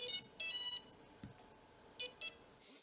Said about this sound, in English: It also means there's a new startup sound.